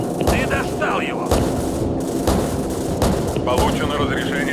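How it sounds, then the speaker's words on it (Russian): Call of Duty: Modern Warfare (2019) gunfire: loud, close shots crack out in separate sharp bursts over a rumbling battlefield backdrop, with voices speaking in between. "Неплохой выстрел."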